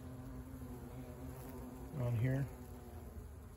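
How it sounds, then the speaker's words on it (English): Bees and other insects hum steadily around a flowering palo verde tree, a soft continuous buzz throughout with one louder, lower drone briefly passing close by near the middle; a voice speaks only a couple of words. "you can hear the bees humming"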